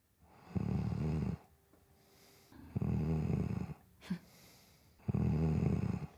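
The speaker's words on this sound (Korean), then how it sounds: "특히 불안함을 이야기하는 코골이." A man snores in a film scene, three long, rough rhythmic snores with quiet pauses between, close and fairly soft, with a brief sharp noise in one gap.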